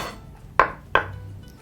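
A kitchen knife slices a red onion into thin rings on a cutting board for a chicken salad, giving two crisp, separate chopping taps close by against a quiet background.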